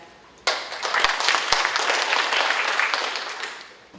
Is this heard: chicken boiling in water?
no